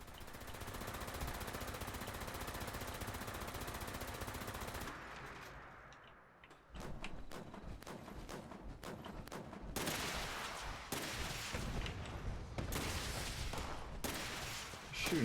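Weapon fire in Fallout 76 from a grenade launcher, a dense burst of rapid shots that cuts off, then repeated sharp blasts and volleys at moderate distance.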